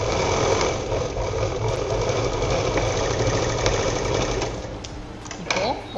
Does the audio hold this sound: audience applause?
no